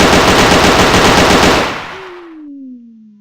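Rapid automatic gunfire from a weapon in a Unity 3D first-person shooter game, a dense loud burst lasting about two seconds before it cuts off, followed by a fading tail and a low steady tone.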